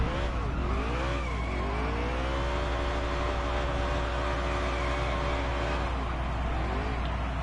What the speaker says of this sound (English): I'm also really terrible at burnouts at Martinsville.